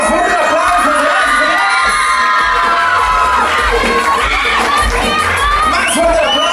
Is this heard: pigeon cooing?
no